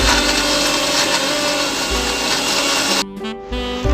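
Vindaloo paste blended with a cup of vinegar for Goan pork vindaloo, a loud continuous blender whir that cuts off abruptly near the end, then briefly resumes.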